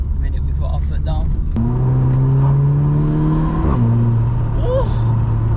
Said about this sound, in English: Oh, sounds so good. Honestly guys, I recommend this exhaust so much.